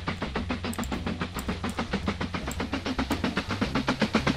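A moving train in the Mashinky railway simulation game, a steady rhythmic clickety-clack of wheels over rail joints repeating quickly and evenly under a constant low rumble, close and loud with no talk.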